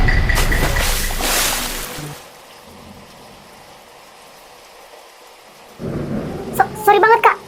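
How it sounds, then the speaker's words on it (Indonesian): Thunder cracks and rumbles loudly during a storm with rain, a heavy burst at the start then quiet, followed by further crackling near the end, with a voice speaking in between. "Kakak ada petir."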